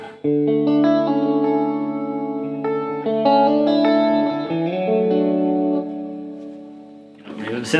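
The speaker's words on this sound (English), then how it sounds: "It's a long reverb." A Zoom 505 guitar effects pedal on a long reverb setting: sustained guitar chords ring out with lingering, washy tails, steady and loud, ending with a brief noisy burst.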